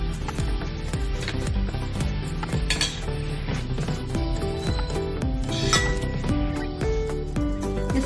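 A spoon stirs and mixes gram flour batter in a bowl, with steady clinking and scraping against the bowl throughout and occasional sharper taps.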